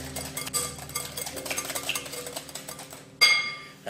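A utensil stirs Marie Rose sauce ingredients together in a bowl, with close soft clinks and scraping against the bowl and a sharper ringing clink near the end.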